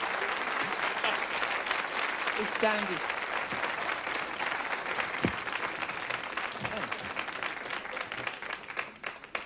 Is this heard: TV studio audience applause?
yes